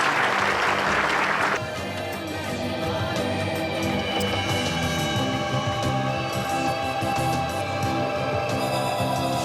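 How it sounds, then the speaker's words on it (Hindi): Loud audience applause at a television show, a burst of clapping at the start that gives way to music with a steady tonal backing. "जोरदार तालियां प्लीज।"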